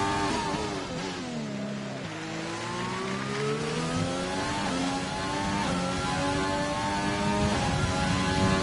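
A Formula 1 car engine screams on track at Baku, pitch climbing and dropping through gear changes in a steady high whine, loud and close throughout, with no talk.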